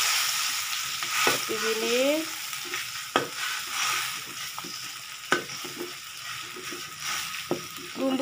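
Seblak spice paste cooking in a pan for ten portions, stirred with frequent scraping strokes and clacks over a constant sizzle, close; a voice speaks briefly and another faint tonal voice sounds early on.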